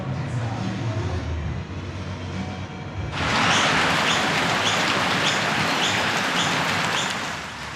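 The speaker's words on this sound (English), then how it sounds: "it's still raining hard" Heavy rain during a morning bike tour, a dense steady hiss that grows suddenly louder and closer partway through, continuing without speech.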